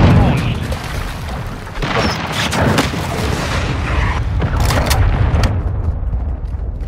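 Heavy booming explosions from cruise missile strikes in Call of Duty Modern Warfare 2, loud repeated blasts and gunfire rumbling throughout, with game voices over them.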